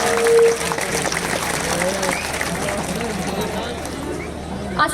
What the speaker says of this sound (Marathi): एकदा तुमच्या स्वतःसाठी जोरदार टाळ्या.